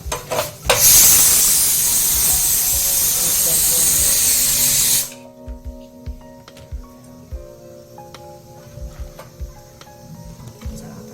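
A loud spraying hiss for a few seconds, then quiet irregular crackles and soft pops as oil-brushed papad roasts, with someone speaking at times over the quieter part.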